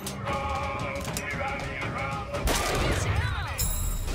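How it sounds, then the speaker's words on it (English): Sniper rifle shots in the video game BioShock Infinite crack out amid game effects and a dense, busy soundtrack, with a sharper burst midway and swooping effects near the end. "I'm loving this sniper rifle."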